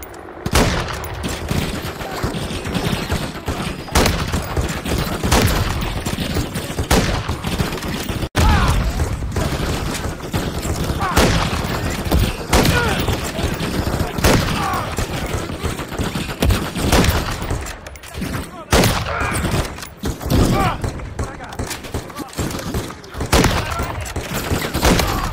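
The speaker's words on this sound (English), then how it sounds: "Keep laying down fire." Sustained gunfire in Call of Duty Modern Warfare 3 on a frozen tundra battlefield: continuous loud automatic bursts, booms and thuds layered with shouted voices and combat noise.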